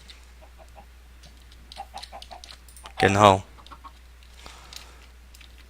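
A Minecraft chicken in the Solitary Craft modpack lets out one short, loud burst of clucking midway, surrounded by a man's speech and faint game sounds.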